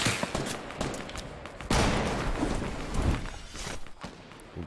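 Gunfire from a teammate in a large 50 versus 50 video game match, heavy crackling shots and booms amid a chaotic roar, with a loud sharp burst partway through.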